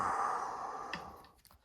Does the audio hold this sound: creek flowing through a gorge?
no